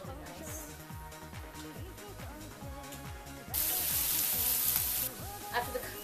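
Onions sizzling in a hot frying pan with salt, a steady crackling hiss under background music, briefly swelling louder midway before settling back to a gentle fry.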